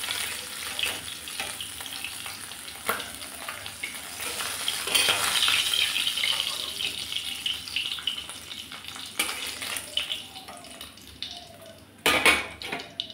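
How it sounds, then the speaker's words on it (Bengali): Fish pieces frying in a pan, a steady close sizzle with clinks and scrapes of a utensil against the pan, one louder clatter near the end. "বাকি মাছগুলো আমি এইভাবে ভেজে নেব।"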